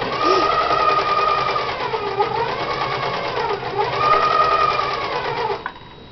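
A sewing machine runs at close range, a steady whirring hum with rhythmic needle clatter that swells and dips in speed for about five and a half seconds, then stops abruptly.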